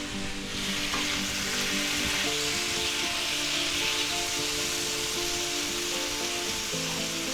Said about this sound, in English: now we're going to add our mushrooms in there.